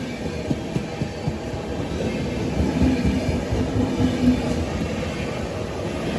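Puri–Durg Express carriages rattling steadily along the rails on a Visakhapatnam to Prayagraj run, with a continuous low rumble, rhythmic clicks and occasional jerking thumps, close and even throughout.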